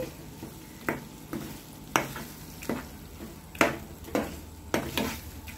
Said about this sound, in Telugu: ఇది కొంచెం డీప్ ఫ్రై అవనివ్వాలి